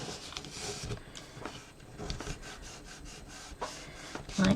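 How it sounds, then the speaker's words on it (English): Close, soft rubbing and scraping as glued patterned paper is burnished flat by hand onto a scrapbook recipe book page. The irregular strokes are fairly quiet and have no voice over them. "and then burnish that glue over"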